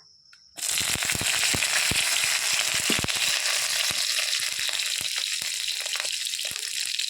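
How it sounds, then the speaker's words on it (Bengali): Prawn heads and green chillies hitting hot oil in a pan, a loud steady sizzle erupting after a brief quiet start and continuing with crackles and spits throughout. "প্রথমে চিংড়ি মাছের মাথাগুলোকে ভেজে নেব। প্রথমে দিয়ে দেব কাঁচা লঙ্কা"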